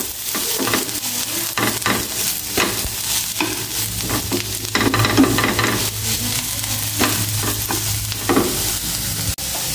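Egg fries in a pan with bitter gourd, sizzling steadily up close while a utensil stirs and scrapes in repeated strokes.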